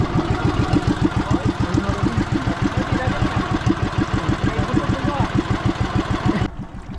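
A boat engine idles steadily at close range, a rapid even low thumping pulse that runs for about six seconds before cutting to a quieter hum near the end, out on the water during a tuna fishing trip.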